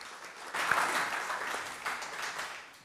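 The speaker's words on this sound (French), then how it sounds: "je voudrais qu'on l'applaudisse vraiment et on la remercie de sa venue à Nice" An audience in Nice applauds a visiting guest at an oceanography and arts event: a soft, dense patter of many hands, moderately distant and fairly quiet, swelling slightly partway through.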